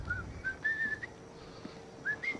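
Whistled notes from The Walking Dead come in short rising phrases, several brief tones early on and two more near the end, fairly faint over a quiet room-tone background.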